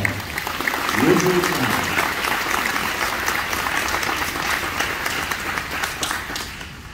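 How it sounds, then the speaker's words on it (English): An outdoor Memorial Day ceremony audience breaks into sustained applause, a dense, steady wash of many hands clapping that holds for several seconds, with a brief voice near the start. "So let's give them a round of applause."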